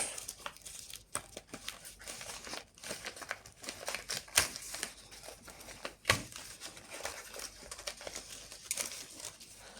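Taped paper being peeled away from the back of a string art board with nails, a dry crinkling and tearing texture with sharp rips, close and steady throughout.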